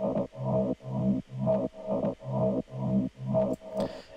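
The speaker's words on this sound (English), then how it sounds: "It really gives it that kind of wow sound." A synth note pulses in a steady rhythm of about eight bursts, its cutoff filter sweeping open and shut on each one for a vocal, talking wow tone, moderately quiet and without voices.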